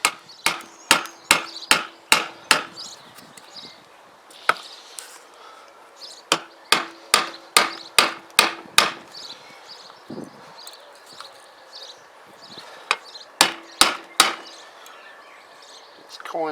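Sharp metallic hammer blows on a bolt of a Tamoretti Retro 50 scooter land in quick bursts of five or six strikes, separated by short pauses, close and loud.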